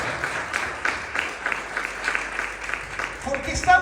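Church congregation applauding during a Sunday service, a steady wash of many hands clapping at moderate loudness with voices underneath throughout.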